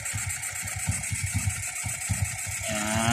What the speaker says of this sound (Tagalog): I-adjust lang natin yung idle ng konti